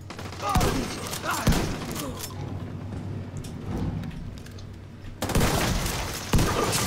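Gunfire in The Division 2 during a detention center rescue mission, bursts of shots and sharp cracks over a droning game background, loudest in the opening second and again near the end.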